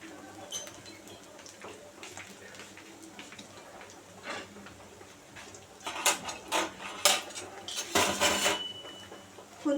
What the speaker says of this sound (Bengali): দেখতেই পাচ্ছেন এটা ভাজা হচ্ছে।